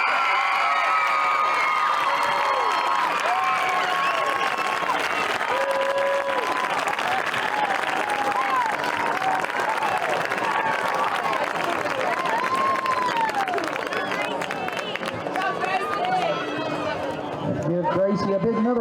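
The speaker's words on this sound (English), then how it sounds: "Give Gracie another round of applause." Crowd at a high school football game cheers and claps steadily for the newly crowned Sorghum Queen, a dense wash of applause with shouts and chatter, while an announcer's voice carries over the stands.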